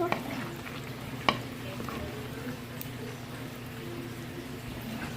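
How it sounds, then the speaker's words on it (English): Pork peleau with green seasoning being stirred in a pot, a soft steady simmer and scrape with one sharper clink near the start. "Give this a stir, cover, and let it do its thing"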